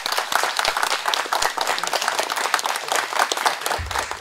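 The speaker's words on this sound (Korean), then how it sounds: "여러분 다시 한번 우리 선배님들께 박수 한번 올리시지 않겠습니까?" An audience at a Korean War anniversary gathering in Sejong applauds veterans, a dense steady patter of many hands clapping, fairly close and sustained without a break.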